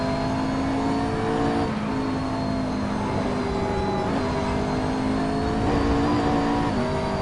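A race car engine from the Assetto Corsa racing game revs and changes through gears, its whining tone stepping up and dropping back several times in a steady close-up drone with no talk.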